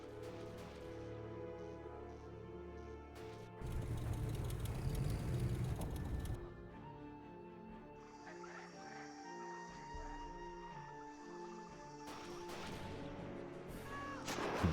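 Heavy booming artillery blasts in the video game Battle of Empires thud in bursts over a steady droning background with tonal music-like hums.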